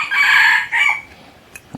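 A rooster crows loudly and close by, one bright drawn-out call with a short second rise, followed by a couple of faint knocks.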